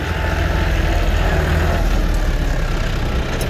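A John Deere 5055E tractor, a 55-horsepower three-cylinder turbocharged diesel, runs steadily with a loud, continuous low rumble and a constant drone, no talk over it.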